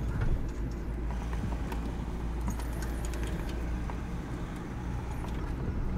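A BMW E39 525d Touring diesel wagon on a test drive gives off a steady low engine and road rumble from inside the cabin, with faint rattles and clicks over the top.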